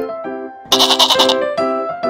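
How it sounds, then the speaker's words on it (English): A goat bleats loudly and close by, a few wavering nasal calls in quick succession with short gaps between them, heard alone without any talking. "goat."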